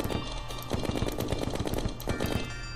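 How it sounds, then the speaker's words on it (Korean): Rapid bursts of gunfire in the game Terraria, a dense automatic volley with deep, punchy shots rattling steadily for a few seconds, no talking. "약간 굵직한 게 남자의 총이야. 맞아. 경박스럽지 않아, 총소리가."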